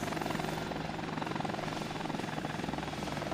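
A helicopter in Workers & Resources: Soviet Republic chops steadily and loudly throughout, its rapid rotor pulse dense and continuous with no pauses.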